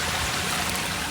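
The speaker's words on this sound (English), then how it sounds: "So I'm gonna probably give them a little drink today. Watering at the root." Water splashing and trickling steadily onto the base of garden plants during a dry spell, a continuous close gush with no pauses.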